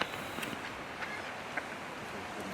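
Ducks quacking faintly at a distance beside a reservoir dam in the Peak District, England, a few brief quacks scattered over a steady outdoor wind and water wash, with no talking.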